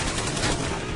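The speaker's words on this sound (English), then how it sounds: "we're taking fire!" Dense, continuous gunfire in a firefight, a steady roar of overlapping shots with no pauses, loud and close.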